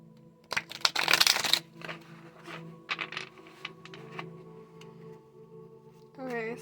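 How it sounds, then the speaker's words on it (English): A tarot card deck is shuffled in a quick riffling burst, followed by several softer, scattered shuffles and card taps against a quiet hum of background tone, close by and heard alone. "I'm gonna shuffle it again a little bit more."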